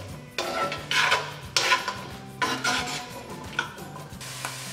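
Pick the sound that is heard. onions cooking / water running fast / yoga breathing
onions cooking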